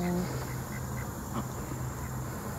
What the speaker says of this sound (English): these are friendly ducks, and they like to take naps along.